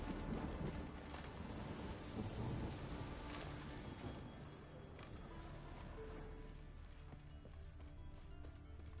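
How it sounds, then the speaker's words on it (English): Rain and a thunderstorm in the video game The Witcher 3: Wild Hunt, heard as a steady, dense wash of rainfall with low rumbling thunder swelling and fading beneath it, plus a few sharper knocks, continuous throughout. "A storm, damn it."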